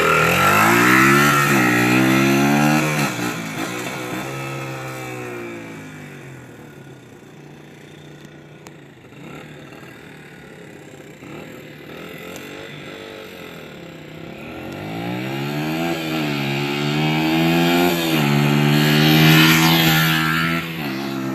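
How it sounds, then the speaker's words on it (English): A dirt bike engine revs loudly and close by as it is ridden, its pitch climbing and falling in repeated surges, with a lower steady stretch in the middle before it winds up again. "This is how you really ride a dirt bike."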